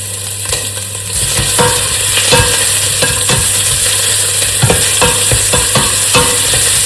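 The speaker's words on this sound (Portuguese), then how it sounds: "E eu vou fritar ela aqui durante um tempo, vou deixar ela soltar essa aguinha que ela tem" Chopped onion frying in a hot pan for a Braga-style duck rice dish, a steady loud sizzle with repeated scraping and stirring knocks from a utensil throughout, no talking.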